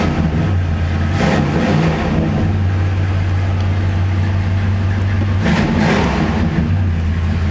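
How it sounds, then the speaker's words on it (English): A 1966 Ford Galaxie 500 convertible, fitted with a 289 Cobra V8 and a C6 transmission, idles steadily with a deep, even rumble held close and loud throughout, with a couple of brief rises. "It is now a 289 Cobra engine."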